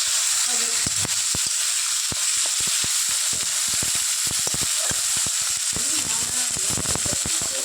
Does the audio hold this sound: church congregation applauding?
no